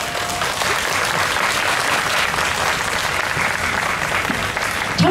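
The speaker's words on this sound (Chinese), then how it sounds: "让我们掌声欢迎我们成龙交响乐团的演奏家入场" A concert-hall audience applauds the Chenglong Symphony Orchestra musicians as they walk on stage. The clapping is dense, steady and sustained, with a faint murmur of the crowd.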